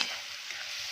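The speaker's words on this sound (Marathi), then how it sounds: "तर सर्व छान ॲड करूया आणि छान असे मसाले परतून घेऊया तेलावर." Ground spices sautéing in hot oil with onion and tomato: a soft, steady frying hiss heard briefly and faintly, with no talking.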